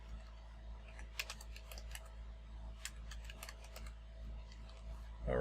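Keys tapped on a computer keyboard during a hands-on Azure demo, a quiet irregular run of light clicks in short bursts with pauses, close but soft against a low room hum.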